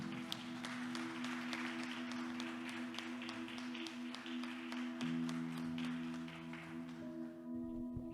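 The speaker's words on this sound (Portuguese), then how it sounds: "Vamos aplaudir esse Jesus maravilhoso," A church congregation claps along in a fairly regular beat over a sustained organ or keyboard chord, moderately distant and soft, with the music shifting near the end as the clapping thins out.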